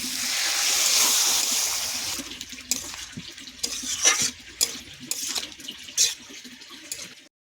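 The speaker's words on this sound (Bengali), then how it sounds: "অল্প একটু জল দেব।" Water poured into a pan of fish curry with tilapia, eggplant and potato, a steady splashing pour at first, then softer sizzling and a few clinks of stirring close by.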